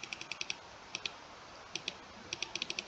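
Short bursts of computer keyboard keystrokes in quick clicky runs with pauses between them, close and fairly quiet over a faint room hiss, with no one talking.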